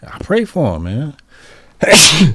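A single loud, close sneeze comes right after someone speaks a short sentence.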